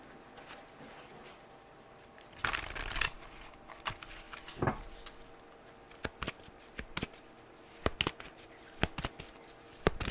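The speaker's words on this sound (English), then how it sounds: "So I've shuffled out your cards" Tarot cards are shuffled by hand in quick crisp riffles and snaps, a dense burst followed by scattered sharp card slaps and taps, close and fairly quiet with no talking.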